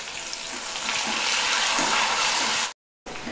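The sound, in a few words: sliced onion frying in oil with cumin and mustard seeds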